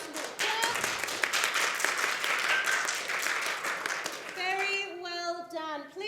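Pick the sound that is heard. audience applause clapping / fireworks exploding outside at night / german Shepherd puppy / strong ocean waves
audience applause clapping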